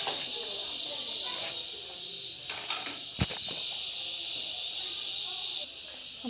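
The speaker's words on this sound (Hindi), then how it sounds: "हमारी चाय उबल गई है" Milk tea with cardamom bubbling in a pot on the stove, giving a steady close hiss and simmer with a few faint pops and clinks throughout.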